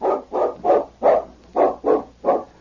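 A large dog barks seven times in a steady rhythm, each bark loud and close with short gaps between, no voices over it.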